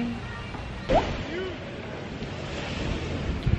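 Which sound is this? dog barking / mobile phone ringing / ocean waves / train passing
ocean waves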